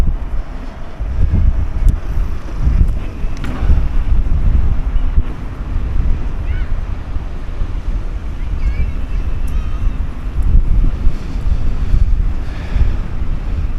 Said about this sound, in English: Canny old headwind now